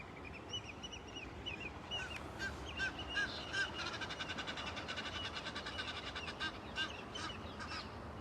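Egyptian geese honk repeatedly at a distance over a steady outdoor background hiss, calls coming in irregular bursts with a few overlapping voices.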